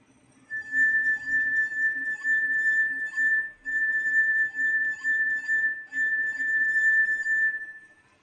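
A sustained, pure ringing tone from a glass partly filled with water, steady and clear with faint overtones, pulsing slightly as it is rubbed, then fading out at the end.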